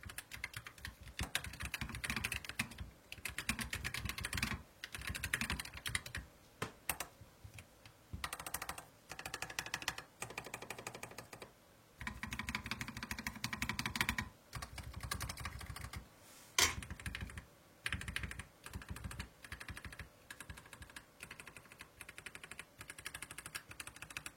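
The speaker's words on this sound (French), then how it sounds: "Je vous laisse écouter rapidement le bruit du clavier." Fast typing on a Keychron K1 Pro low-profile mechanical keyboard, close and steady, with short pauses between bursts of clacking keystrokes and no voices.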